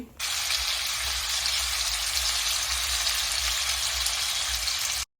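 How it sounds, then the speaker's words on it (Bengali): Hilsa fish pieces sizzle in hot oil in a pan, a loud, steady, close hiss that starts abruptly and holds evenly for about five seconds before cutting off. "আমি তেল দিয়েছি এখন এখানে আমি ইলিশের টুকরাগুলো দিয়ে দিচ্ছি"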